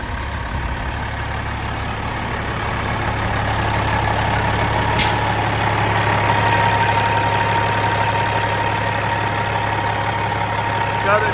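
A 2019 Kenworth W900L glider truck's 550 hp Cat 3406 diesel, with 13-speed transmission, idles steadily and close, a continuous low rumble with light knocking texture and one brief click partway through.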